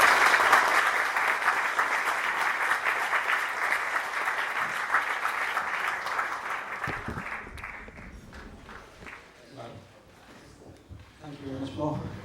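Audience applause at a business talk, a dense, steady burst of clapping for about seven seconds that thins into scattered claps and murmuring, with a few voices talking over the fading crowd.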